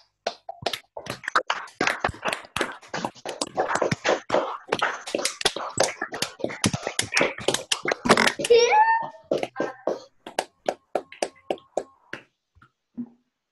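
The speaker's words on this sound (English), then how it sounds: "unmute your microphone so we can thank the speaker all together and by clapping" Scattered claps from an online audience come through unmuted microphones in thin, uneven bursts, with a few isolated claps trailing off at the end.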